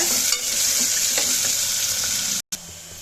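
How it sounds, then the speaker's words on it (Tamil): Onions sautéing in hot oil for a mutton curry, a steady dense sizzle with scraping stirs, close and loud, cutting out briefly near the end. "எண்ணெயிலேயே நல்லா வதக்கி விடுங்க"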